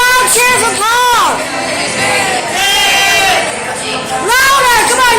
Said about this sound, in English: let's hear a loud cheer for Paul